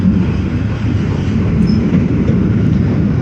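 A Class 375 electric multiple-unit train pulls into London Charing Cross station, its steady loud rumble and rolling wheel noise filling the platform throughout, with no voices.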